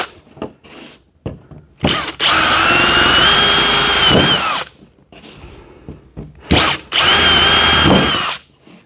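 Power drill boring through pilot holes with the next size bit for a chicken nipple drinker, two long loud whining bursts of a few seconds each, separated by quiet handling clicks and knocks.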